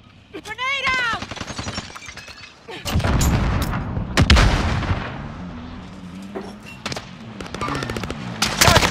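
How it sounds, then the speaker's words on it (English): A grenade goes off in Call of Duty: Modern Warfare amid a chaotic firefight, with heavy booming blasts and rumbling gunfire rolling through the scene and voices heard at the start. "Grenade out!"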